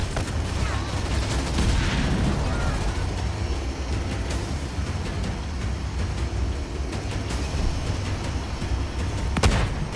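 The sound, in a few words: gunfire from ground troops in video game Halo Wars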